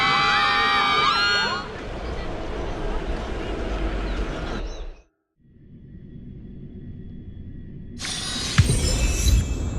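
In-game crowd cheering from the video game Honkai: Star Rail, roaring crowd noise mixed with shrill effects and music that cuts to near silence, then swells back with loud cheering and crashing sounds.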